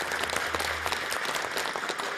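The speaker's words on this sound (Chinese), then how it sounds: "掌声欢迎两位中医瑰宝的护宝人" A studio audience on a health programme about traditional Chinese medicine claps steadily for two guests, a dense, even round of applause lasting a couple of seconds.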